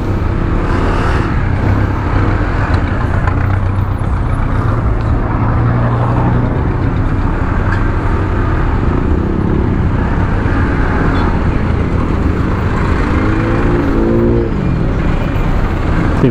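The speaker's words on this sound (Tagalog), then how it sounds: "Traffic na dito sa may Kogyo." Steady road traffic rumble in Marikina, engines idling and vehicles creeping past in a dense, continuous wash of noise with no gaps.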